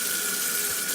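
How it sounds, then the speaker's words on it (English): Ziti pasta rinsed under a running kitchen tap, giving a steady, close hiss of flowing water that continues without a break and with no voices. "run it back under water, and then we'll have to drain it real quick"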